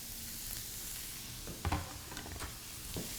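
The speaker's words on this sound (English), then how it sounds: "That's a good sizzle. I'm going to add my chopped red onion." Chopped red onion sizzling in oil in a frying pan, a steady soft crackle throughout with a few brief clinks and scrapes of stirring, fairly quiet and without talk.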